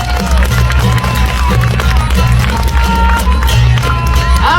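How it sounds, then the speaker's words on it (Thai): A crowd claps and cheers for the cast of a Thai likay folk theatre performance, dense and loud applause with shouts throughout, against a steady low hum of the venue's sound system. "เสียงปรบมือให้กับนางเอกที่เหลือของเราด้วย"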